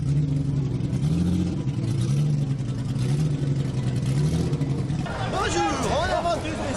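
A race car pulling away from a pit stand at the Le Mans 24 Hours, its engine droning steadily under a loud crowd babble, then a sharper, rising rev near the end.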